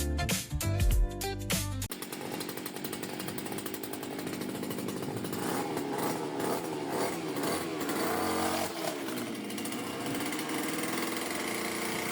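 A brand-new weed whacker grass cutter runs on a farm in Russia with a loud, continuous buzzing engine drone, preceded by a couple of seconds of choppy, sputtering revving.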